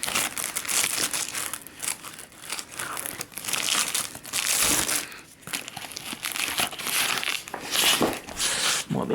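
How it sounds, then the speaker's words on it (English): Plastic wrapping on a boxed mattress being cut away with a tool instead of scissors, giving loud, continuous crinkling and crackling of the plastic layer with brief dips, close up and without speech. "just use this tool just to cut that top layer off it"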